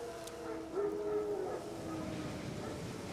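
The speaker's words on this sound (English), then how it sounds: "Wild dogs." Wild dogs in the Witcher 3 video game give a distant, drawn-out yelping howl over a low ambient rumble, with faint game sounds around it.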